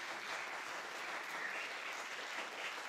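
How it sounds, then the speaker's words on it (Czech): An audience at a live school-organised competition event in Pardubice gives soft, even applause, a steady wash of many hands clapping that sounds distant and subdued for the full three seconds. "Zatleskejte jí, děkujeme."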